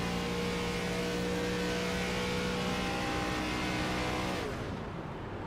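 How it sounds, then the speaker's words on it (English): Close-up race car engine in an iRacing ARCA Series event drones loud and steady, then lifts off throttle near the end as the pitch drops and the sound thins out into a coasting hum. "As we hear Chris Leftwich off the throttle as well, shutting that car down, saving some fuel."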